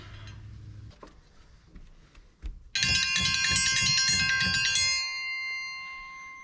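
A small hung bell rings out loud and bright at a tiny house homestead in Arkansas, a sustained metallic peal with several overtones that lingers and fades after a few quieter thumps and handling sounds.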